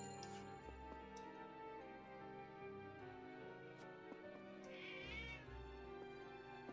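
A cat meows in the video game Triangle Strategy, a short high wavering cry over layered game music with ticking sounds, faint and set back in the mix.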